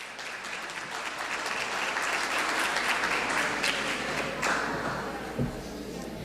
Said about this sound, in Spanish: Recibámoslo, por favor, con un fuerte aplauso.